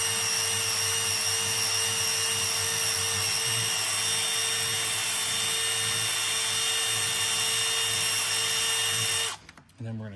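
A power drill whines steadily and loudly, boring out a hole to enlarge it for a ground wire while fitting E34 engine risers, running continuously before stopping abruptly near the end.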